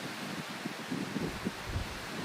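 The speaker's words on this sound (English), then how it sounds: "We do have some serious wind trying to pull off to the left here." Strong gusty wind blows outdoors at a fishing spot, buffeting the microphone with a steady broadband roar and a few low rumbling gusts. No one speaks.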